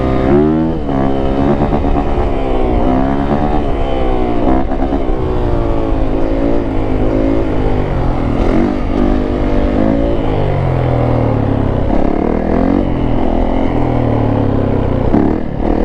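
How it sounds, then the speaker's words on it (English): Yamaha YZ450F dirt bike engine revving hard at full throttle, a loud, close, continuous roar with rising pitch sweeps as it climbs through the gears. "Just watch the throttle and the bike will pick up."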